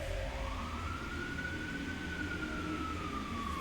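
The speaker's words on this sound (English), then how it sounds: "I hear sirens." A distant emergency vehicle siren wails in one long, slowly rising and falling tone over a low, steady rumble of background noise, faint and far off.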